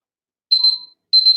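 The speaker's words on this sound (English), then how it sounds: "So that's my timer for the proving." Kitchen timer alarm for bread proving: two bursts of rapid high-pitched electronic beeping, the first fading after about half a second and the second starting after a short gap, loud and close, with no talk.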